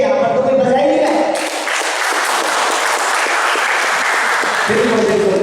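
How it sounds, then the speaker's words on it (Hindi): An audience at a stage program breaks into loud, dense applause that swells after a brief lead-in with a voice and music, then continues strongly and steadily to the end. "तो एक बार जोरदार तालियां।"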